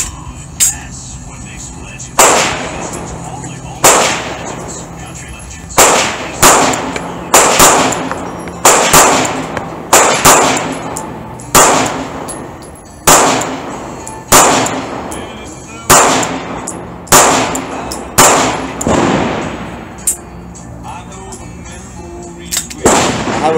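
An SAR9 pistol fires Winchester white box ammunition in a steady string of about a dozen loud, sharp shots spaced roughly a second or two apart, each with a short metallic ring, heard close at an outdoor range.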